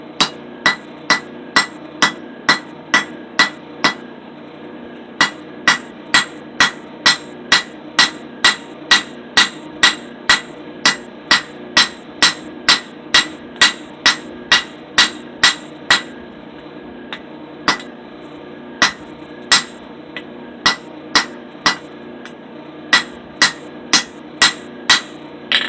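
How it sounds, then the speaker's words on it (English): A ball peen hammer strikes a forged steel cable Damascus billet in a steady, ringing rhythm, dozens of sharp blows about one per second with a brief pause partway through. "I was using the ball on this ball peen hammer"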